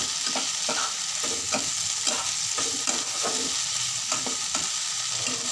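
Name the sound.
stirring tomato and beans sabji in a pan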